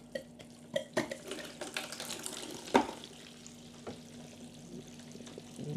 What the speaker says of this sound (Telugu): చాలా ఫాస్ట్గా వాటర్ అయితే బయటికి వెళ్తుంది